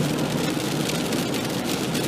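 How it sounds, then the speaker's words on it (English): Steady rain drumming on a car while driving a dark night road north toward Crescent City, California, past roadwork; a dense, constant hiss with road rumble underneath, loud and unbroken, no voices. "Yeah, that rain, wow."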